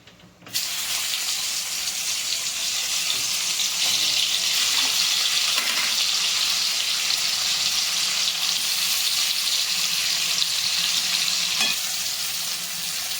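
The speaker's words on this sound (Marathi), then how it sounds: "आता फक्त याच्यात कारलं टाकून घ्यायचं" Bitter gourd tossed into a hot pan of fried masala, sizzling loudly and steadily as a bright, hissing fry that begins abruptly and continues without talk.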